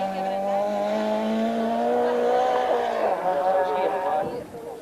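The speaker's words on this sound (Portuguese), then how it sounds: "Pedro Leal em excelente andamento, com o Toyota Corolla a consolidar a sua segunda posição" A Toyota Corolla rally car at the 1989 Rallye do Vinho Alvarinho roars past with a steady high engine tone, shifts and fades near the end, while a commentator talks over it.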